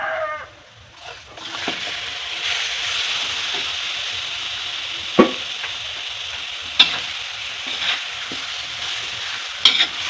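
Marinated chicken for chicken biryani sizzles steadily in a hot pan, with a few sharp clinks of a utensil scraping and stirring, and no talking.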